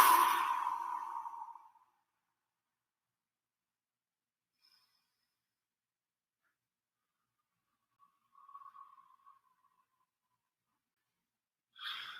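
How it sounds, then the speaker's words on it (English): Slow controlled breathing during a bodyweight exercise class: a long breathy exhale at the start fades out, followed by near silence, then a soft mid-length breath and another breath at the very end, all fairly quiet and without talk. "keep on breathing like that, guys."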